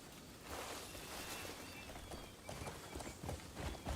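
Rapid clip-clop of horse hooves running across the ground in a Western-style open-world video game, steady and fairly close, with a busy rustling backdrop and no talking.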